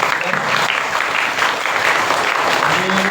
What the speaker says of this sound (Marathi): तर जोरदार टाळ्या त्यांनी केलेल्या या घोषणेसाठी.